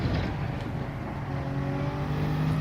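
A Toyota Supra race car in Gran Turismo 7 at the Red Bull Ring holds a loud, steady engine drone with rising harmonic tones as it pulls through a gear, with no talk.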